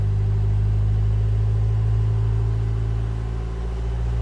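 A 2015 Vauxhall Vivaro 1.6 CDTi diesel with a stalling fault runs at a steady, loud, close drone near 2000 RPM, its low hum constant with only a slight dip toward the end.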